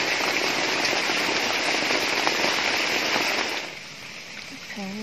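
Heavy rain pours down on a rural Thai forest area in a dense, loud, steady hiss that eases noticeably near the end, leaving a softer patter and faint background sounds.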